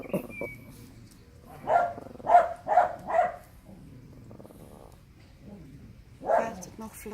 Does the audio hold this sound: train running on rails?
no